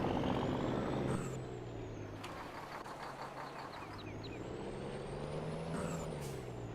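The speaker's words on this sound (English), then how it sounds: "this truck is nasty sounding" A dump truck in Farming Simulator 22 rumbles steadily with a rising and falling engine drone, punctuated by sharp air brake hisses and faint beeping, moderately loud with no talk.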